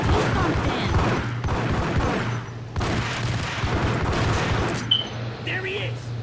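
Gunfire from a firefight in the Max Payne video game, a dense run of shots and booms that carries on for several seconds with only brief breaks and a low hum running underneath.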